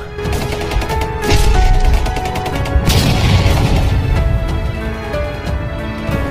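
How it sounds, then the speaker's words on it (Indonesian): Loud, rapid laser cannon blasts and booming impacts pile up in a dense barrage, with crashing bursts and sustained rumbling throughout. "mereka pun melepaskan meriam laser cannon secara langsung ke arah sang dewa kuno"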